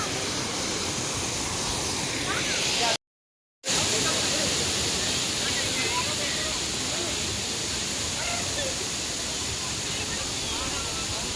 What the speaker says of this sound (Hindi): तो ये यहाँ का झरना है।